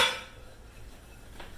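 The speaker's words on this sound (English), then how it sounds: "And we're going to mix this up a batter." Utensil clinking against a bowl while apple fritter batter is mixed, a brief clatter at the start that fades to quiet kitchen background.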